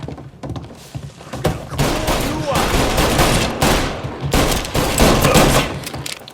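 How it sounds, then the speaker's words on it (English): Rapid, dense gunfire from a shootout in the video game Mafia Definitive Edition, with sustained bursts and repeated loud shots filling the whole stretch, close and intense. "Before they shoot me!"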